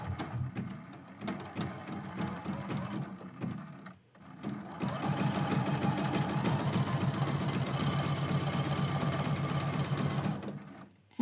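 A sewing machine runs a thin satin stitch on a quilt-as-you-go Christmas quilt block, a close, rapid, steady chatter that pauses briefly and then resumes, running continuously.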